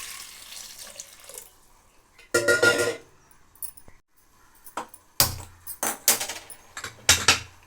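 Water pours into a pressure cooker holding taro roots in a home kitchen, in several short splashing bursts with quiet gaps between them and no talking.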